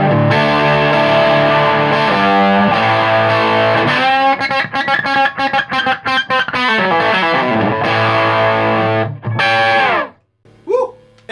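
A Marshall JTM45 pushed to full saturation, both volumes at 10, middle and treble at 8, bass at 3 and presence at 7, plays loud, fuzzy electric guitar chords and rapid riffing, ending with a sudden stop and a last stray note.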